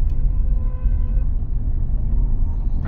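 A 15-year-old Honda Accord pulls slowly under acceleration, giving a low, steady engine rumble heard from inside the cabin with no talk.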